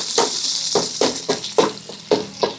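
Garlic fries in hot oil for fried rice, its sizzle broken by a handful of scraping stirs that come at a steady pace, near and fairly loud.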